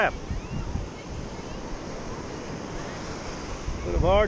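Rough sea waves break at low tide in a broad, continuous wash with wind noise, and brief voices come in at the start and end.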